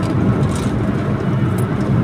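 A Ramayana bus speeds along the road between Muara Enim and Ogan Ilir. It makes a continuous, loud rumble of engine and road noise, like hearing the traffic from inside a moving vehicle.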